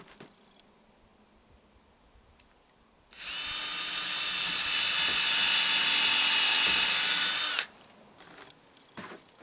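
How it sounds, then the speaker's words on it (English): A power drill bores into wood raised on cut-off blocks above a bench, one sustained high whine lasting about four and a half seconds that swells slightly, with quiet handling noises before and after. "I have the wood up on blocks, up on the blocks that I cut off, so that when I drill, I'm not drilling into my bench"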